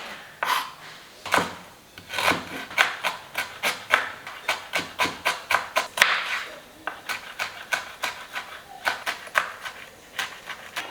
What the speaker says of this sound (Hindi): तब तक हम चॉप कर लेंगे गार्लिक